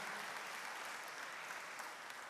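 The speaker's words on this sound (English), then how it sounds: "Let's give another warm round of applause for our Chief of Staff" Faint, steady applause from an audience at a mosque gathering, a dense wash of clapping held evenly throughout with no talk.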